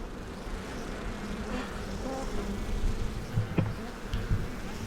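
A low, continuous bee buzz hovers close around a tree in Montenegro, with faint rustling and a brief louder hum near the end.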